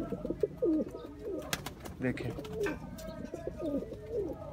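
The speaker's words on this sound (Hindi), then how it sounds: "दोस्तों ये एक फिरोजपुरी बांका कबूतर है, ये आपके सामने।" A Ferozpuri Banka pigeon coos in steady, rolling phrases close by, while someone talks over it and a few sharp knocks and rustles sound in the background.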